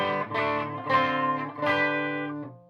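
FGN Japanese electric guitar played through distortion, three sustained strummed chords ringing out one after another, each swelling and fading, close and loud with no talking.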